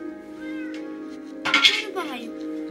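Cat meows from a Minecraft game, two short mewing calls near the middle over a steady tonal game background, with a person speaking alongside.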